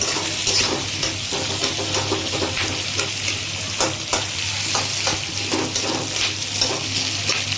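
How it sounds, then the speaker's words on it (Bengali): Onions fry in oil in a pan over a high flame, crackling in a loud, close sizzle. Regular scraping stir strokes punctuate the frying, and there is no speech. "এই পেঁয়াজটা কিন্তু বেশি ভাজা হবে না, জাস্ট আরেকটু ভাজা হয়ে গেলে কিন্তু এটাকে আমরা নামিয়ে নেব"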